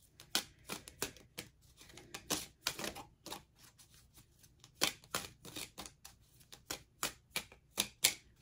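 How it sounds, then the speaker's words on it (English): Tarot cards being reshuffled by hand, a rapid run of crisp close snaps and riffles in irregular bursts, fairly quiet with no talking over it. "I'm going to reshuffle."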